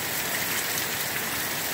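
Heavy rain pours steadily in Pekin, Illinois, a dense, even hiss of downpour that stays loud and unbroken throughout, with no voices.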